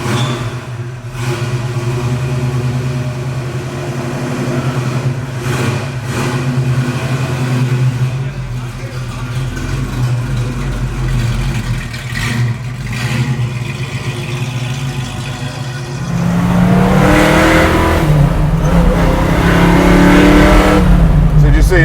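A 1965 Ford Mustang coupe, a garage-built hot rod, roars as it accelerates, its engine growing louder and deeper toward the end with steady revving under occasional voices.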